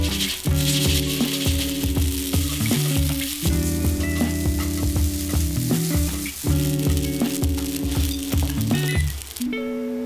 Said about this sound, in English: We're cooking noodles first because we want them to get a little bit crispy